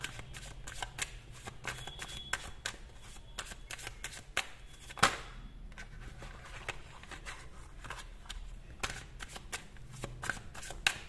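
Tarot cards being shuffled by hand in rapid riffling bursts with soft slaps, close and quiet, continuing steadily with brief pauses.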